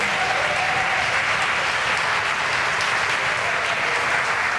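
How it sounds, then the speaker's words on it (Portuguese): A church congregation applauds steadily, a dense, loud wash of clapping that fills the whole moment without pause. "Pode aplaudir ao Senhor."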